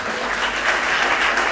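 A church congregation bursts into steady, dense applause, loud and close, clapping continuously throughout with no break.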